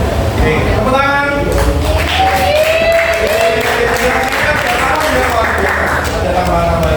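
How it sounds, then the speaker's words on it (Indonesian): A classroom audience applauds after a group presentation about rock samples, with steady sustained clapping and some voices mixed in, loud and close throughout. "Oke, tepuk tangan."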